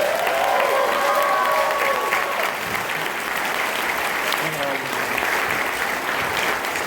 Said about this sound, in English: let's go ahead and give a round of applause for Steve